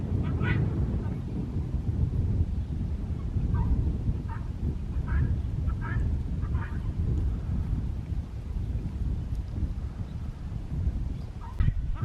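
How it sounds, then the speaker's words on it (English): Guinea fowl on a farm give a series of harsh, rhythmic calls at mid distance over a constant low roar of wind or outdoor noise. "And you can hear the guineas"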